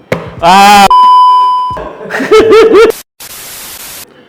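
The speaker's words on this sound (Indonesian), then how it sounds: "HP aku bunyi." A mobile phone rings loudly up close, a tonal electronic ringtone with a sustained beep and a short melodic run, then a burst of noise as it is cut off.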